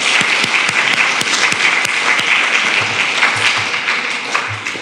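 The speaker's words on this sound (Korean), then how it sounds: "우리 격려의 박수 한번 부탁드립니다." A church congregation applauds during a Sunday worship service, dense continuous clapping with a few sharp individual claps standing out, loud and fairly steady before easing slightly at the close.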